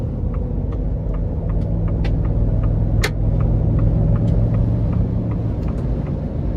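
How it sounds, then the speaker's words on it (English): A gas-powered 2023 Ford F-250 Lariat Ultimate pickup with a 7.3-litre V8 accelerates, its steady low engine rumble and road drone holding close and loud throughout, with a brief sharp click near the middle. "I'm gonna give it some throttle here."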